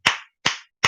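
Three sharp hand claps ring out at an even pace about half a second apart, each close and crisp with a short decay, with no talking.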